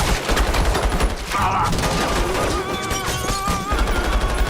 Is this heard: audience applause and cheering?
no